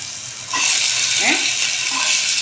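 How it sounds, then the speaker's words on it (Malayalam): Pumpkin and ash gourd pieces sautéing in oil over high heat for Udupi sambar, a loud, steady broadband sizzle that jumps up after a brief quieter start and holds with faint stirring scrapes. "എണ്ണയിൽ നല്ല ഹൈ ഹീറ്റിൽ ഞാനൊന്ന് വഴറ്റി വരും."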